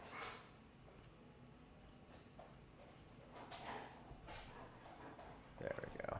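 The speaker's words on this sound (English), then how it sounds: "Apologies if you hear the dogs running around in the background." Dogs run around indoors in the background, making faint, scattered clattering paw steps and small scuffles, with occasional louder bursts near the end.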